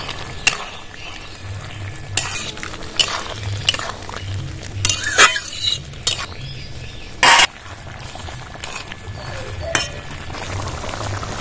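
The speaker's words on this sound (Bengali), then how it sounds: "সর্ষে পোস্ত বাটাটা দিয়ে দেবো এবার।" Drumsticks frying in a pan with mustard-poppy paste added, a low steady sizzle under scattered spoon scrapes and clinks, with one sharp louder stir burst near the end.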